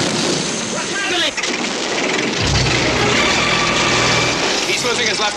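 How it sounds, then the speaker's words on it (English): Propeller airliner engines droning steadily while one engine on the left side falters mid-flight, its low tone shifting partway through, heard beneath voices talking in the cabin. "He's losing his left engine."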